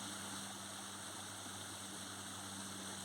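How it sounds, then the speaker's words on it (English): A river's steady rushing water flows continuously with a low constant hum beneath it, broadband and even throughout, with no voices. "I'm just going to placate myself with the sound of running water"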